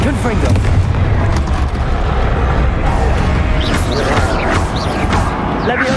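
The Bombarda explosion spell in Hogwarts Legacy sets off loud, booming blasts amid dense, chaotic combat noise, with a voice calling out over the din.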